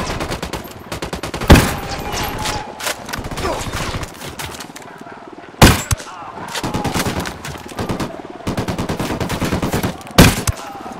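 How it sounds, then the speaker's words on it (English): Rapid automatic gunfire in the tactical shooter Ghost Recon Wildlands, with repeated close bursts and sharp louder cracks every few seconds. "Opening fire!"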